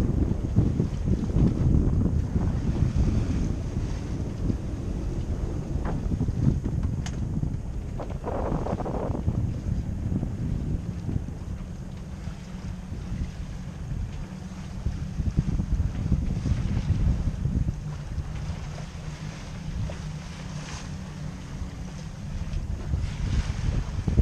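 A sailboat motoring slowly into the wind while its sail is lowered, with engine rumble, wind buffeting the microphone and water splashing against the hull, loud and continuous.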